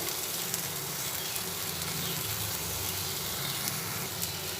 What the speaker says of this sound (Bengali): এটা ভালোভাবে নাড়াচাড়া করে কষিয়ে নিচ্ছি মশলাটাকে ভালোভাবে কষিয়ে নিচ্ছি